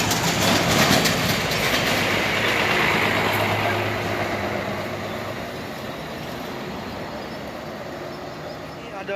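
A PT Rapi bus passes close by on the steep mountain road at Batu Jomba, Setinjau Lauik, with a loud engine roar and rushing road noise that peak early and then gradually fade.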